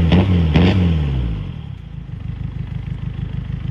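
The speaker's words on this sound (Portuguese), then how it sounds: "Eu vou mostrar o barulho dele agora." A diesel car engine remapped to 110 horsepower revs hard twice in quick bursts, then drops back to a rough, pulsing idle, close and loud with no talk.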